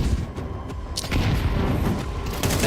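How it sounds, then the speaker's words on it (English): Grenade blasts in a Counter-Strike 2 esports match at the Esports World Cup: heavy booming bursts and crackling impacts roll over a dense, busy game-audio bed. "Nade damage galore that round."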